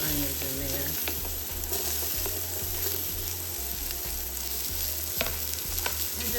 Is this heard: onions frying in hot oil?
yes